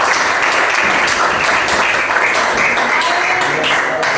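A classroom group gives applause to the third discussion group, a dense steady clapping that fills the room for the whole stretch, fairly loud and without pauses.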